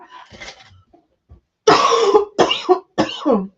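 Several harsh, close coughs burst out in quick succession after a few softer throat noises.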